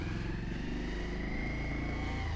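Motorcycle pulling away and accelerating, a loud close engine drone whose pitch climbs slowly and steadily, with no talking over it.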